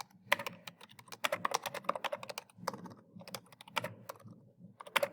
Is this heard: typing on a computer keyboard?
yes